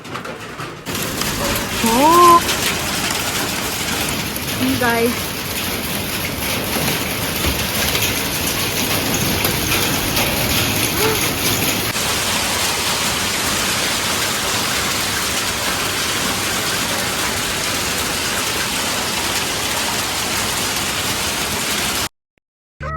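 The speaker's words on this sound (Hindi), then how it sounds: "क्योंकि बाहर बहुत जोर की बारिश हो रही है। आपको सुनाई दे रहा है?" Heavy rain and hail pour steadily in a dense, hissing roar for the whole stretch, with a person speaking briefly over it near the start.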